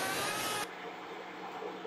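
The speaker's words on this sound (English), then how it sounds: "Use a detail sander and use 320 grit paper." Detail sander with 320 grit paper working on car paint for a small repair, a steady close broadband hiss and buzz that drops in loudness partway through as the tool eases off.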